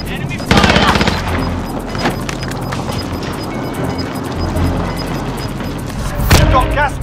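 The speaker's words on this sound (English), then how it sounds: "Enemy fire!" Rapid bursts of gunfire in Call of Duty Warzone on Rebirth Island with a light machine gun and an automatic shotgun, loud and close, with sharp blasts near the start and end and game voices faintly underneath.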